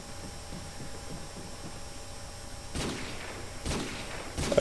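Gunfire in a hardcore team deathmatch video game: a quiet hum is followed by three sharp shots spaced about a second apart, the last one loudest.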